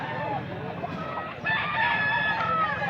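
A gamecock rooster crows with a long, harmonic call that rises partway through, standing out over a steady background of other fowl and farmyard noise.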